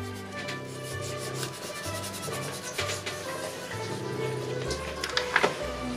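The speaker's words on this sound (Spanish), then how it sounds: "con ayuda de nuestro dedo, de una tijera, de una regla, vamos a transferir el grafito con el que previamente marcamos nuestra bambalina" Graphite marks are rubbed from a pattern onto craft foam (goma eva) with a finger, scissors and a ruler, giving soft, repeated scraping and rubbing strokes close by over faint background music.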